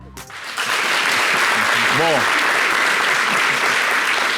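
Studio audience applause bursting in after a short spoken word, swelling quickly into loud, sustained, dense clapping while a voice briefly speaks underneath.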